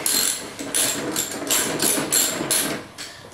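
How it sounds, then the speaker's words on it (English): A ratchet fitted with a 14mm socket loosens the blade nut on a Craftsman 21-inch mower, making about six quick clicking strokes in a steady back-and-forth rhythm, close and distinct, with no speech. "Next, use your ratchet and a socket of the right size."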